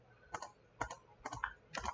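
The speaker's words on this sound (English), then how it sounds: "holding down Control, and press Control E to merge it" Computer keyboard keys pressed in four distinct clicks spaced about half a second apart, close and clear against a quiet background.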